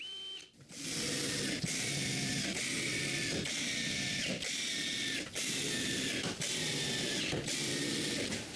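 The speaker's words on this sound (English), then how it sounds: "Finally, I screw them in place." A drill driver sinks screws to fix connectors into a wooden chest of drawers, giving a loud, steady mechanical whir close by, broken by short pauses about every second as each burst of driving ends.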